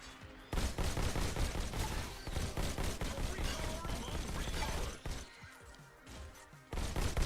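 Rapid, dense bursts of gunfire from the VR shooter Robo Recall as robots are shot, a continuous loud barrage of game shots and crashes with only a brief dip before it resumes.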